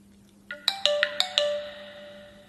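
A Jio Phone keypad handset powers on with its startup tone: a short, bright chime of about five quick ringing notes that rings on and fades, heard alone against a quiet low hum.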